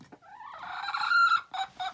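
Chickens inside a farm chicken coop cluck and call in a drawn-out, rising squawk, followed by two shorter clucks, close and fairly loud.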